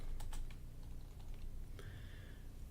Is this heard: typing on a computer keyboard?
yes